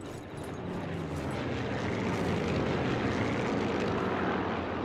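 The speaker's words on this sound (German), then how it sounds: "Diese ganzen Flugzeuge immer." Propeller airplanes flying overhead in Sniper Elite 4, a steady loud drone of aircraft engines that builds slightly and holds for several seconds, with no speech.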